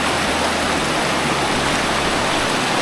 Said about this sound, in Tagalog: Pero grabe yun, ang lakas ng agos.